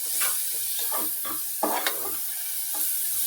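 Two medium onions being stirred with curry leaves and turmeric in a pan for banana bonda, a few spaced spatula scrapes rising over a constant light sizzle of hot oil, close by and alone.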